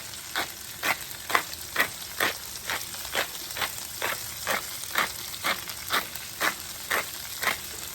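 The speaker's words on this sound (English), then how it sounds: "So we're just gonna saute these" Green beans sautéing in a pan, a steady close sizzle with regular scraping stirs roughly every half second, loud and even, no voices.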